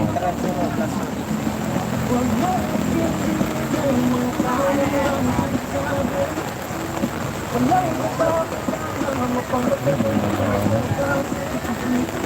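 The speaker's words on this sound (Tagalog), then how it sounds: "Ang lakas ng ulan, no?" Heavy rain at a Manila Bay beach, a constant loud hiss of downpour with wind buffeting, while people talk intermittently nearby.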